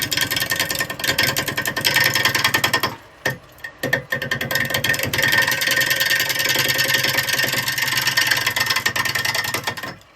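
Bowl gouge cutting a lump of ash wood spinning on a lathe, a loud continuous rough chattering and rumbling with a brief drop near the three-second mark before the cutting resumes steadily.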